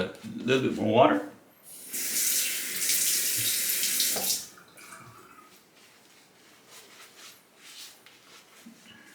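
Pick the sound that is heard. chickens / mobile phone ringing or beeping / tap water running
tap water running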